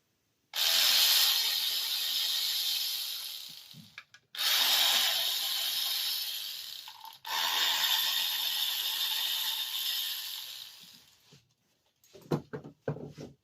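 A powered tool whirs in three sustained bursts, each a few seconds long, while screws come out of a 2007-2016 GMC Acadia 3.6L V6 during rear spark plug work. Brief clicks and clatter of handling follow at the end.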